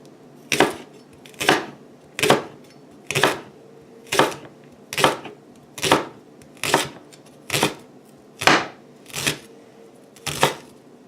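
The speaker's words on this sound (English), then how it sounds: "we're just gonna kind of cut it into little rings" Knife chopping through peeled butternut squash into rings, about twelve sharp, evenly spaced cuts landing on a board in a steady rhythm, close and clear with no talking.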